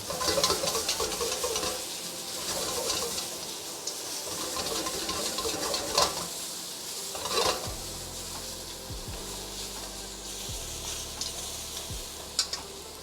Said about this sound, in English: Good sizzle.